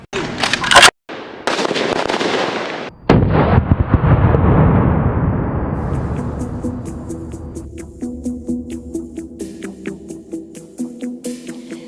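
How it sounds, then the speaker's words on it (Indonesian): Automatic rifle fire at a police academy: loud, echoing bursts and blasts up front, then a long run of rapid, sharp cracks trailing off into the distance with some background voices. "Yang bisa ditembakkan satu-satu, tembakan sekali tembak 1 butir, bisa tembakan otomatis"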